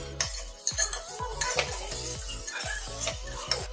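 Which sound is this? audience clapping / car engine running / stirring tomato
stirring tomato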